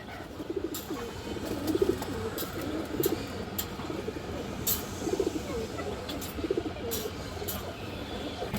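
A chipped tournament racing pigeon coos in soft, repeated throaty bursts about once a second, close by over a steady low background hum.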